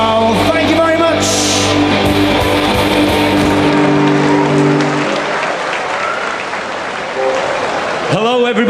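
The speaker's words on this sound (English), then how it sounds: "Let's have a big cheer for your Man City team." A stadium crowd cheers and applauds loudly and continuously as the Manchester City team comes out for open training, while an announcer's amplified voice carries over the noise.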